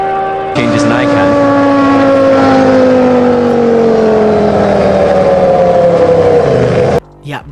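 A Formula 1 car with a CVT transmission drives past loudly, its engine holding a steady high whine whose pitch slowly drifts downward instead of stepping through gear changes, cutting off abruptly near the end.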